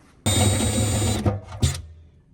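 A unibit step drill bores through sheet metal for a modern exhaust hood, giving one loud, continuous grinding whine about a second long, then a couple of shorter bursts as the bit breaks through, close by with no talking.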